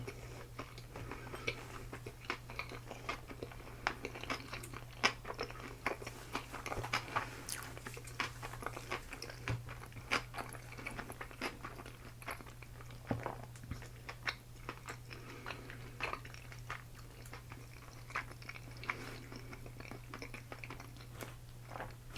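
Sushi being chewed up close in a quiet room, soft wet chewing and small crunchy bites repeating through a long stretch over a low steady hum.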